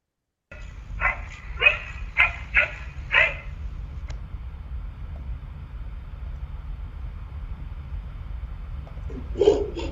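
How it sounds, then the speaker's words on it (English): A dog bark pitch-shifted by a generative AI sound model comes as a quick run of five sharp barks, then a pause and one more bark at the end. "you will observe how we can change the pitch of the dog bark"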